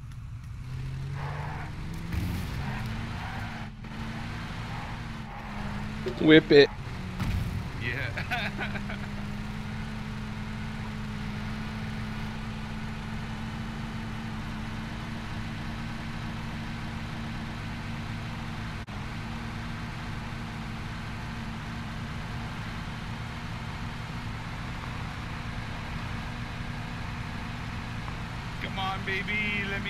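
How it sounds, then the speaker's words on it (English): Truck engine droning steadily while driving in the PUBG battle royale game, a constant low hum through the whole stretch with a few brief louder knocks, under occasional talk. "Yeah, let's take that truck right in."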